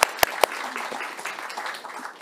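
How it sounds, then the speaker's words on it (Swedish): Brief applause from an audience at a Swedish industry network meeting on CCS, following a presentation; a few sharp claps open it, then a soft, sustained patter of hands. "En applåd."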